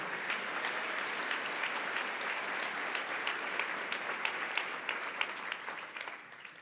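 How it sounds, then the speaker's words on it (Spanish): A church congregation applauds God during a sermon, with sustained, fairly faint crowd clapping whose sharper individual claps stand out more toward the end before it fades. "Le das un aplauso a Dios con todo tu corazón"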